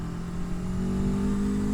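A very fast, high-horsepower car engine accelerates steadily under throttle, its strong mid-pitched drone rising and holding loud and close, with no one talking.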